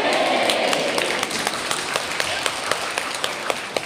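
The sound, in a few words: audience applause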